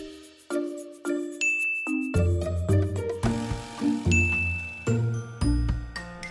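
A bright notification bell chime rings out repeatedly in a rhythmic sequence of clear metallic dings and tinkling tones, layered with deeper resonant notes, loud and close with no talking.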